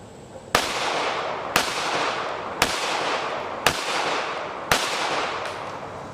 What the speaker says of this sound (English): just gonna shoot off about 5 rounds.